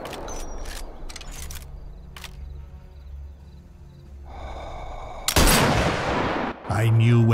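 A sniper rifle fires in the VR shooter Sniper Elite VR. A few sharp clicks and game noises come first, then one loud, close, booming shot whose blast rings out and fades before more in-game sounds follow.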